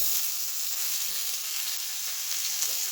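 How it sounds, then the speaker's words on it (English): Vegetables stir-frying in a smoking wok: a dense, steady hiss of sizzling oil, close and continuous, with faint scraping of stirring underneath. "Then I'll show you the cooking bit. A smoking wok."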